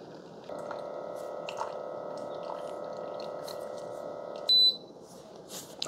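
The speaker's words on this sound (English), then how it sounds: "so you get 2 beeps when it's done" A Famiworths hot and iced coffee maker for K-Cups and ground coffee runs with a steady brewing hum and faint drips, then gives a sharp, loud electronic beep as the brew finishes, followed by quiet.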